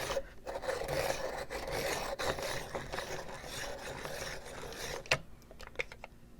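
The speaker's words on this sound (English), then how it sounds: "I'm gonna sharpen it" A coloring pencil is sharpened close up for adult coloring, a continuous dry scraping rasp that stops abruptly, followed by a few faint taps.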